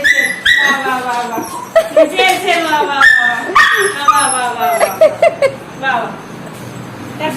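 A puppy yips, barks and whimpers close by in a rapid, insistent series, while people talk over and around the dog's cries.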